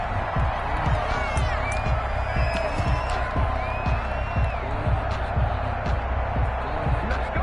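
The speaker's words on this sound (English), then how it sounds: "this crowd has certainly liked what they've seen" A stadium crowd in an American football video game roars with steady cheering throughout, a dense continuous wash with occasional whoops rising above it.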